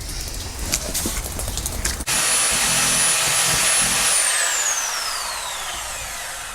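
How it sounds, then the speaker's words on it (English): A small jackhammer chatters loudly and unevenly up close, chipping bitumen from a boat's hull, then gives way to a steady, high, droning motor whine that slowly fades. "Tiny jackhammer. Working your way through the bitumen with this is very easy."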